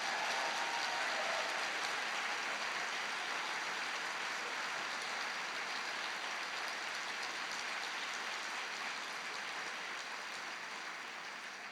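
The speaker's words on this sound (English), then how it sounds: "Another round of applause." An audience at an evening author event at the Mount Baker Theatre applauds, a sustained, even wash of distant, fairly faint clapping that tapers off slightly toward the end.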